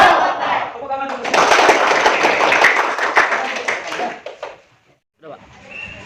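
A school class claps and cheers together in a classroom: a loud burst of mixed clapping and shouting swells quickly, holds for a few seconds, then fades into silence before a voice resumes.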